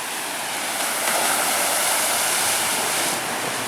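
Monsoon floodwater rushes through a flooded yard and wash as a dense, steady roar of broadband hiss. It holds at an even level throughout, close and continuous, with no voices.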